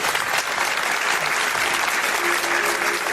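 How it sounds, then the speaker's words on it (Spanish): A crowd breaks into loud, dense applause, a continuous wash of many hands clapping close by for a few seconds. "Pido un aplauso para ellos."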